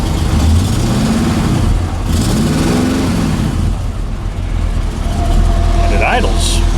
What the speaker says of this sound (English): Sounds pretty good, actually. For being a tired old engine,